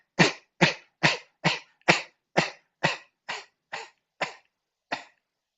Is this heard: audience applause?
no